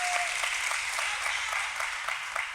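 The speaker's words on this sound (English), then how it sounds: "can we give Don a round of applause" A meeting audience breaks into a round of applause, dense, continuous clapping from many hands, fairly loud and close, with a few sharper individual claps standing out.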